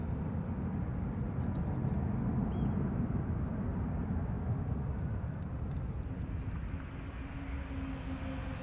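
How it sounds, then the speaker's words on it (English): An Air Baltic Airbus A320 at Amsterdam Schiphol Airport spools up its engines, a steady, loud, broad rumble with a faint rising whine over several seconds. "the whale noises emanating from the A320 means that Air Baltic is also spooling up"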